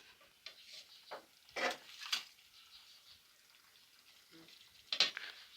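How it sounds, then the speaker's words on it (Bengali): Potatoes tumble into a pan for Bangladeshi alu ghati, a few short scraping and clattering bursts spread apart with quieter gaps, close and moderately soft. "আমি ঢেলে দিচ্ছি আলুগুলো।"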